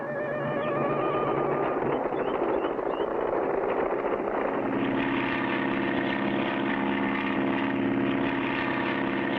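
A propeller airplane in an old animated cartoon drones steadily and continuously for several seconds with a buzzing engine tone. The pitch shifts partway through, and no voices are heard.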